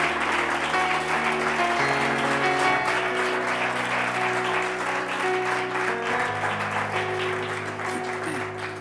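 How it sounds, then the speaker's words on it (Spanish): A church congregation claps together in a full, steady round of applause that lasts several seconds, with a held organ or keyboard chord sounding beneath it. "Dele un aplauso al Señor."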